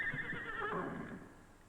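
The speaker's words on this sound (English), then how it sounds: "There are the horses to care for." On a 1950s Austrian farm, a horse lets out one clear, fairly close whinny that wavers and then fades, with a faint background hiss and no voices.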